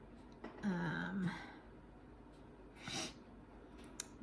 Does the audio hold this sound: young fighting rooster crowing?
no